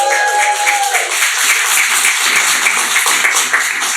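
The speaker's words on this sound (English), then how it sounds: "Round the applause for that" An audience at a live comedy night at McChuills in Glasgow claps and cheers in a loud, continuous burst of applause close to the microphone, with a faint tone at the start.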